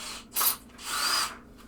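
An electric drill used during an under-playfield repair on a 1974 Williams Lucky Ace pinball machine whirs in two short bursts, the first brief and the second longer, close and fairly loud with no talk.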